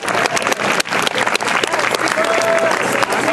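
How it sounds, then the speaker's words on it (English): An audience at a restored Victorian heritage site in Malta applauds a demonstration of old machinery, with dense, sustained clapping close by and a few voices mixed in. "so give them a good round of applause"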